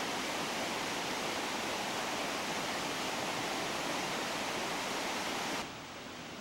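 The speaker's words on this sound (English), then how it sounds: "The brook, just, the water sound is fantastic." Brook water rushing steadily near the south entrance of Yosemite, a dense, even broadband wash that holds constant and close, then drops slightly in level near the end with no voices.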